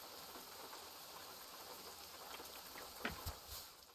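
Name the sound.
rain in video game American Truck Simulator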